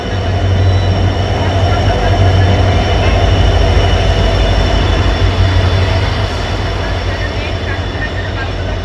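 A train rolls into Malbazar station with a loud, steady low rumble of wagons and wheels, a sustained drone that eases slightly toward the end.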